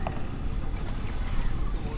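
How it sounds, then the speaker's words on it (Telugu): A small boat moves along the Kerala backwaters in Alleppey between coconut and banana groves, a steady low engine rumble mixed with wind buffeting and water wash, close and continuous. "ఈ కొబ్బరి తోటలు, అరటి తోట మధ్యలోంచి ఈ బోట్ జర్నీ అయితే అసలు అద్భుతం"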